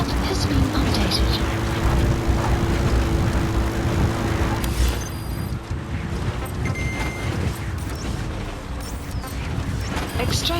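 Support helicopter arriving in Metal Gear Solid 5: The Phantom Pain, a steady rotor and engine drone with a low thrum that fills the scene, rising slightly and then holding, with game sounds layered over it.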